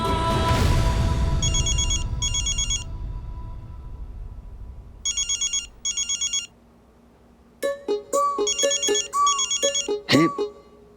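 A phone rings with an incoming video call, its electronic ringtone chiming in repeated bursts, then shifting into a melodic tone pattern, loud and close after a brief noisy opening.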